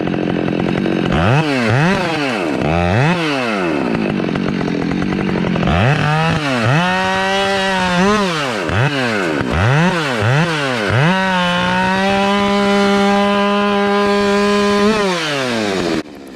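A Husqvarna chainsaw with a sharp chain cuts small wood during decrepit tree felling, its engine loud and close, revving up and down repeatedly before holding a steady high whine while cutting.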